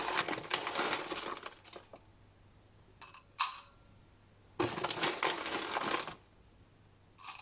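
Dry wax flakes for a homemade leg balm scooped with a spoon in bursts of crisp rustling and crunching, with short pauses and lighter clicks between, close and fairly quiet.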